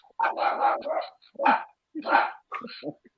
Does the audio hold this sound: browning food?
no